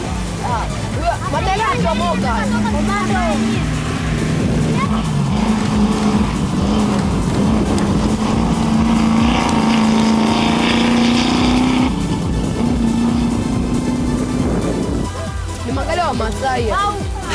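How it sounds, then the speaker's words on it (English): Range Rover off-road rally car driving a stage at a Tanzanian rally, its engine droning loud and steady throughout, rising in pitch midway, with a voice talking over it at the start and end. "driving this Range Rover"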